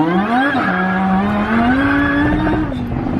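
Rolls Royce Ghost, a rear-wheel-drive luxury car, accelerates hard while its tires skid and squeal, a loud steady engine tone climbing and dipping through one continuous pull with no talk.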